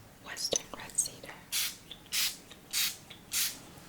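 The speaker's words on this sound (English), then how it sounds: "I'm going to spray down your back with this Western red cedar." Four evenly spaced, hissing bursts of Western red cedar mist from a spray bottle follow soft whispering and small handling clicks.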